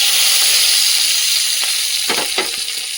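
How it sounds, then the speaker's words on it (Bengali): Whole peeled garlic cloves fry in hot oil with a loud, steady sizzle. A few sharper crackles and spits rise out of the continuous hiss toward the end. "এই যে গোটা গোটা রসুন যেগুলো ছাড়িয়ে রেখেছি সেগুলো কিন্তু তেলের মধ্যে দিয়ে দিচ্ছি"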